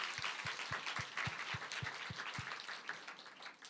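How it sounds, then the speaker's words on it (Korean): A youth congregation at a church winter retreat evening worship service claps together, with a broad wash of applause and a steady rhythmic beat of synchronized claps marking time under it before easing off. "우리 하나님께 영광의 박수 올리겠습니다."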